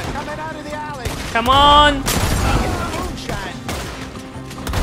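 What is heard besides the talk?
gunfire in the video game Red Dead Redemption 2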